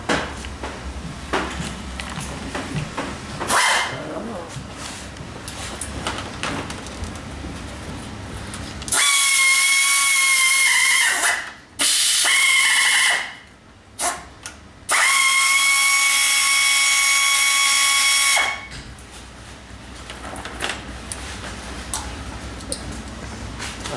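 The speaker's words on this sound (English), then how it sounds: "So I'm going to sand it lightly, new coat it, and see what it'll do." Power sanding on a painted Honda part, two loud steady whirring bursts of a few seconds each with a short gap between, set against quieter workshop noise before and after.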